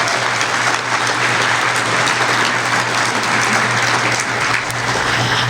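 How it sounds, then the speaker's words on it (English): A conference audience claps together in a dense, sustained round of applause, loud and even throughout with no speech over it. "Let's give them a round of applause."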